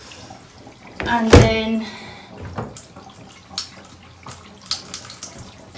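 Tap water runs briefly over soapy PlayStation 1 console parts in a sink, a short rinsing burst followed by faint drips and handling, with someone talking over it.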